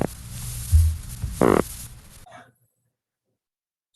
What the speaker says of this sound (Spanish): entonces ese es el sonido de una especie de sinoción